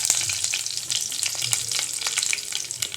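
Fenugreek seeds and curry leaves spluttering in hot oil for a Tamil kara kuzhambu, a dense close crackle and hiss with sharp pops scattered throughout, no voices.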